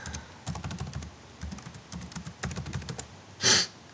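Someone types a password on a computer keyboard in quick bursts of close, crisp key clicks, ending with a single louder keystroke, with no talking.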